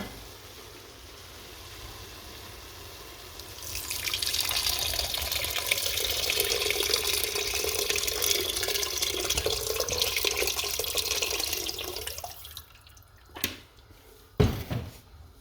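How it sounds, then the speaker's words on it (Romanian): Filtered water pours into a soup pot of kohlrabi soup, a steady rushing splash that starts after a quiet moment, runs for several seconds, then stops, followed by a couple of brief knocks. "acum vom pune apa filtrată"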